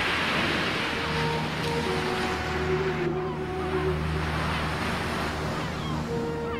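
Black Sea waves on the Bulgarian coast wash in a steady, continuous surf, with sustained tonal notes running faintly underneath and no break in the roar.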